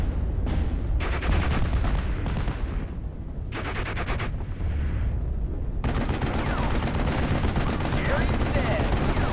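An artillery barrage sounds in Steel Division Normandy 44: several separate heavy gunfire bursts with short gaps between them, then a sustained loud rumbling roar of rounds landing that fills the rest of the time.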